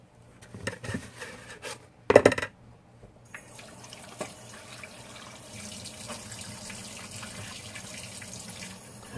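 Tap water running into a bowl set up for cleaning walleye, starting with a few knocks and rubbing sounds, then a steady close hiss of flowing water that continues to the end.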